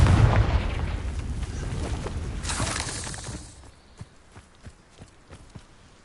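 A Confringo fire spell bursts in a Hogwarts Legacy battle with a loud, sustained blast and crackling rumble for a few seconds, then fades to quieter scattered thuds and footfalls.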